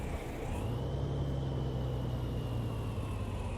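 A modded Cummins M11 truck engine from a trucking game idles and revs up into a steady, rising drone with a whining high tone, loud and unbroken with no voices.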